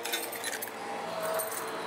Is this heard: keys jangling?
yes